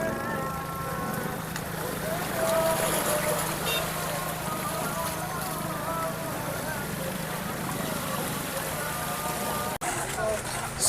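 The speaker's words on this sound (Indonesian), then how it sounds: "Ini kapalnya dibanting-banting oleh gelombang ini." A ship at sea on the Pacific, heading from Luwuk Banggai toward Taliabu and tossed by waves, with a continuous rushing roar of water and wind and an engine-like drone that stays loud and steady, plus a sudden brief dropout near the end.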